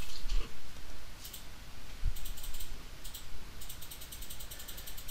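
A hand ratchet clicks in short bursts as the three front bolts holding a Precision Matthews 5C collet chuck onto a lathe are tightened, a quiet, close mechanical ticking with no talk.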